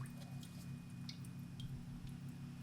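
Transmission fluid dripping out of a Mercedes 722.6 transmission filter being lowered, soft wet drips and squishes scattered over a steady low hum, close by.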